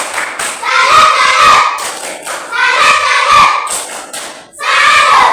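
Primary school students repeating a patterned unison clap routine, three loud bursts of rhythmic clapping and thumping with short gaps between, accompanied by chanting young voices.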